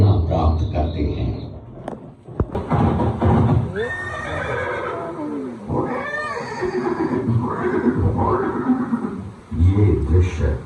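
Chetak, Maharana Pratap's horse in a 3D animation, whinnies with rising and falling neighs over rhythmic hoof clip-clops, with a soundtrack layered behind.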